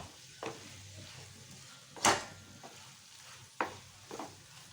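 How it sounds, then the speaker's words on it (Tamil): A few spaced scraping stirs move fried fish through Manchurian masala in a pan, faint sizzling underneath, with one sharper clack of utensil against metal. "நம்ம பொரிச்சு வச்சுருக்கிற ஃபிஷ்ஷை இதில் போட்டு மிக்ஸ் பண்ணிக்க போகிறோம்."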